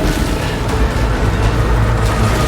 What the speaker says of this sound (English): That's the sound of an eldritch tentacle monster coming for my